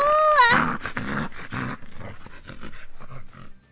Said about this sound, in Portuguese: Fui entrar bem na casa do Rufius, o cão mais brabo da rua